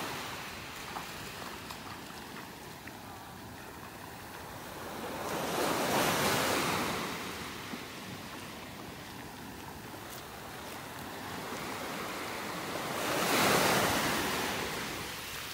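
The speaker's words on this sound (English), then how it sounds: "Up in Area 4 Beach now." Surf on a beach in North Naples, Florida, with two slow swelling washes of breaking waves over a soft constant roar and some wind, heard from a short distance without voices.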